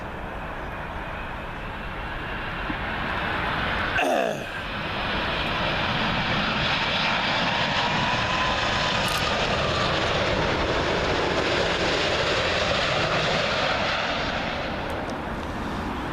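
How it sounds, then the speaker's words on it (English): An Air India Boeing 787-9 Dreamliner arriving on runway 27L at Heathrow roars overhead, a loud sustained jet engine rush with a sharp whoosh as it passes close, then a long steady fading roar. "Up next, we've got Air India 787-9 Dreamliner in from Mumbai."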